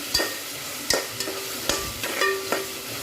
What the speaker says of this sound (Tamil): நம்மளோட பாலக்கீரை பச்சை வாசனை போகிற அளவுக்கு நல்லா வதக்கிக்கலாம்.